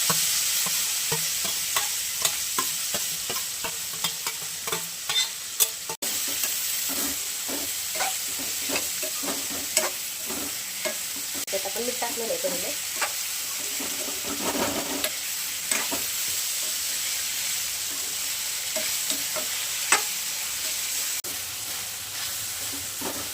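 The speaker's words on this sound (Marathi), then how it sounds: "लसूण टाकूया आणि थोडीशी हळद टाकून घेऊयात ही गवार टाकून घेऊयात आपण ह्याच्यात" Cluster beans fry with chopped garlic and turmeric in a pan, a continuous close sizzle broken by frequent scraping and tapping stirring strokes, with no talking.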